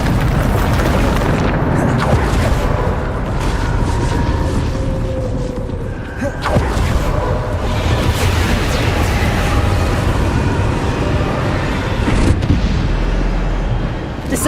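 Loud, continuous booming blasts from the Bombarda explosion spell in the video game Hogwarts Legacy, with dense rumbling bursts and sharp cracks running throughout, mixed with game sound effects.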